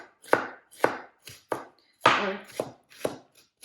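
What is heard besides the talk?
chopping red onions finely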